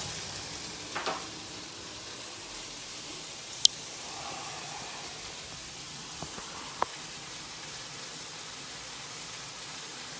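Beef bourguignon ingredients sizzle in a cooking pot with a soft, steady frying hiss, broken by a few faint clinks and taps of utensils.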